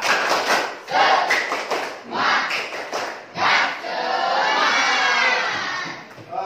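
Junior high students perform a rhythmic spirit clap chant in a classroom, bursts of group clapping and shouted voices in several beats, then a sustained crowd cheer toward the end, close and lively.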